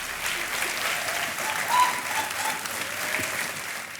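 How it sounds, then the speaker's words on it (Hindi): Steady applause from a studio audience on the KBC High Flyer quiz show set, a dense wash of clapping holding at an even level for several seconds with a slight swell midway. "तालियां बजती रहे इनके लिए"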